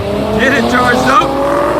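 A supercharged Dodge Charger Scat Pack races a Mustang Mach 1 on a quarter-mile drag strip, a loud, continuous engine roar with rising supercharger whine, under voices talking.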